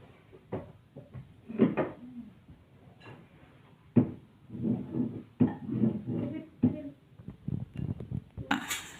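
A plate is set down in a classroom to replace a piece of cardboard, giving several light ceramic knocks and clatters at close range against a quiet room.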